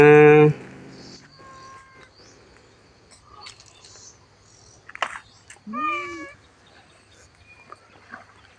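Temple cats at Wat Pong Chai meow as they trail after a monk. A few short rising and falling meows stand out near the middle over quiet background sound, with faint voices around them.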